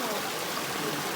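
Water flows steadily at Ikogosi spring in Ekiti State, Nigeria, a close, continuous rushing wash with no pauses or distinct splashes.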